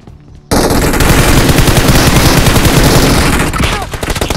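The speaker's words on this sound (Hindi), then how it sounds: "अब आपको देखने को मिलेगा बीजमाई की सबसे पावरफुल गन की दहशत" Sustained heavy automatic gunfire from a powerful gun in the video game BGMI, loud and continuous for several seconds after a brief quiet start, with a burst of single shots near the end.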